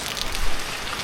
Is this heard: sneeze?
no